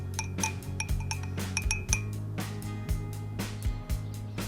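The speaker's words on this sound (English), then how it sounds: "I stir my coffee." A spoon stirs coffee in a cup, clinking repeatedly against the sides in quick, ringing taps that are close and clear with no talking.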